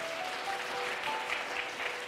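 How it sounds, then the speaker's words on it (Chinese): A church congregation applauds to welcome a member during a Sunday service, a steady, fairly faint wash of many hands clapping with a few faint tones above it. "还有一位文妮姐妹来拍手欢迎她"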